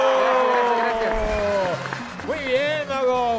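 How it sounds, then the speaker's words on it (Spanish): Applause for a magician named Mago Paco on a Latin American TV variety show, a crowd clapping and cheering underneath an excited announcer's voice talking over it. "¡Aplausos para el Mago Paco!"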